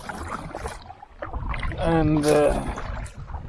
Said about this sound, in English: So I've been paddling now for quite a while